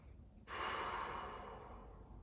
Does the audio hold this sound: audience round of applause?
no